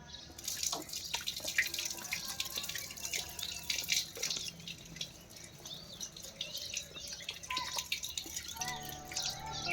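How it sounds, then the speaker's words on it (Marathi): Running tap water pours into a sink while hands are rinsed after scrubbing with soap during a handwashing demonstration, a steady close splashing and dripping wash that continues throughout without talk. "फेस किंवा मड निघाल्यावर आपल्याला हात धुवून घ्यायचे आहे."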